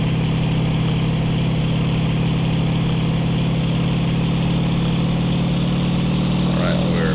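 A WWII-era propeller aircraft engine drones steadily and loudly in the IL-2 combat flight game as the plane begins its takeoff roll, a constant low throbbing hum filling the whole stretch.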